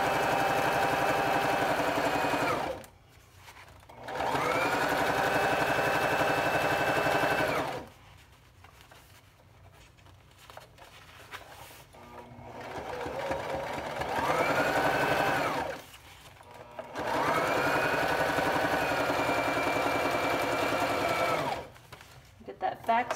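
A sewing machine stitches fabric for a heat press pillow in several sustained bursts, pausing in between, with a voice talking quietly during the gaps.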